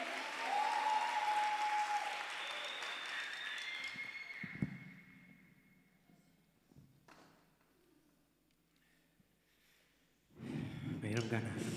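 Audience applause at a live music session: a loud burst of clapping fades over several seconds into a quieter stretch, then swells again near the end.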